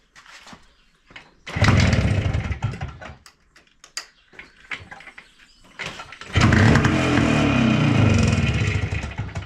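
A Minsk 125 motorcycle engine fitted with a K68 carburetor cranks and catches, then revs loudly in two long bursts, with short sputtering attempts and brief pauses between them, recorded up close.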